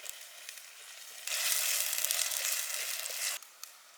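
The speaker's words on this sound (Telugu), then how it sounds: "నూనెలా మంచిగా ఉల్లిగడ్డలు గోల్డ్ కలర్ వచ్చేసేపు గోలిచ్చుకోవాలి" Onions sizzle and fry in hot oil for a jungle-style traditional Tamil Nadu chicken chintamani, a steady bright crackle swelling loud for about two seconds before easing back to a softer hiss.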